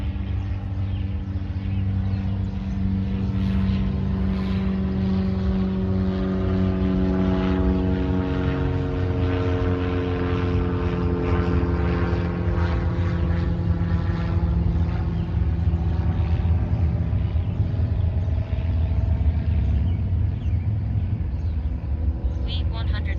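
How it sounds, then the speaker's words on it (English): Small propeller plane droning overhead near a Wisconsin fishing spot, a loud sustained engine hum whose pitch slowly slides as it passes, with someone talking over it. "There's been a ton of small planes today flying over."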